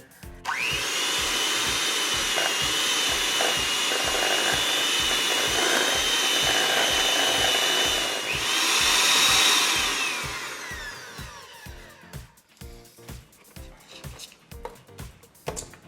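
An electric mixer beats cream cheese batter for a sugar-free candy cane chocolate cake, a loud steady motor whir lasting about twelve seconds with a brief pitch rise near the end before stopping, followed by faint scraping.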